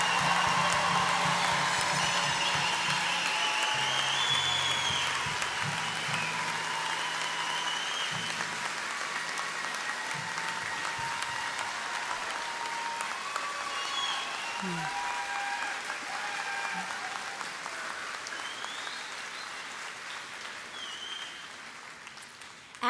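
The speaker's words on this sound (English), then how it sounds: "we need a huge round of applause to our graduates" Sustained, dense applause from a large commencement crowd cheering the spring 2023 graduates, steady and full at first, then slowly thinning and softening over about twenty seconds, with faint voices and tonal sounds mixed in beneath the clapping.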